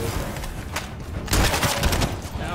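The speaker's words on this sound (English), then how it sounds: "Oh, can I shoot through my wall?" Rapid bursts of gunfire in the shooter game The First Descendant as the player fires through a wall, dense and loud, with continuous automatic shots and a heavier burst midway.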